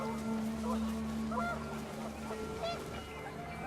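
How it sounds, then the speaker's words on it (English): Panicked geese honk in the video game What Remains of Edith Finch, several quick nasal calls over a windy, noisy background, moderately faint and short. "The wind picked up, and panicked geese appeared and quickly went."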